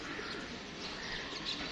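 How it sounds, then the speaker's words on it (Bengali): Pigeons coo softly as they settle onto a rooftop after a released flock of racing pigeons returns home, the cooing faint under steady outdoor background noise. "কবুতরটা বসলো প্রথমে"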